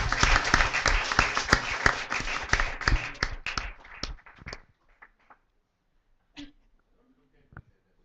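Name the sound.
church congregation applause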